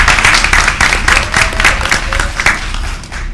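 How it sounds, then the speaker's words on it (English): Loud, close audience applause at a practical nursing pinning ceremony, a brisk crowd of clapping hands continuing for a few seconds and tapering at the end. "If you guys want to give them a round of applause,"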